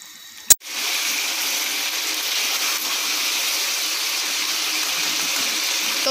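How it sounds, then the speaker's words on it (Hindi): Beef cooking in a karahi over a high flame as its water boils off, a sharp clack and then a steady, fairly faint hiss and sizzle that goes on unbroken, with no talking. "अब हमने इसको तब तक पकाना है जब तक इसका ये सारा पानी खुश्क नहीं हो जाता"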